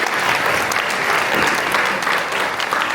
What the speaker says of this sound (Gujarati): તો યતીનભાઈ માટે તાળીઓ થઈ જાય પ્લીઝ